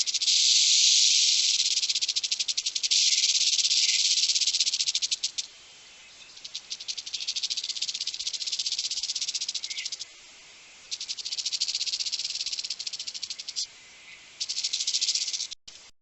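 Western diamondback rattlesnake rattling, a steady high dry buzz held in long sustained bursts with brief breaks between them, close and continuous and with no voices.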